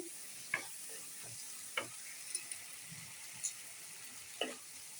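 Tomatoes fry down into a sauce in a pan with a faint, steady sizzle, broken by a few soft taps and scrapes of stirring.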